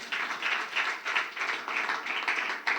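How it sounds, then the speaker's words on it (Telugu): A congregation at an Easter church service claps together in a steady rhythm, with fairly even beats that continue without a break. "చప్పట్లు కొడదాం ఒకసారి"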